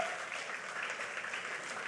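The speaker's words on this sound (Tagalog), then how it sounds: "Kulang ang palakpak natin eh." A church congregation applauds during a sermon, a steady wash of many hands clapping that sounds faint and distant, with no voices over it.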